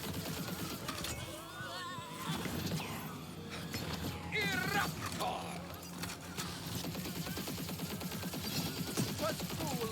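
A cat meows a few times in Tiny Tina's Wonderlands, mixed in with creaks and mechanical clatter and a steady game soundscape, with voices speaking around it.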